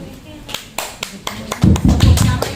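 Scattered hand claps from a crowd at an Indonesian Independence Day celebration in Tegal, a few sharp separate claps building into denser, louder clapping toward the end, close and short.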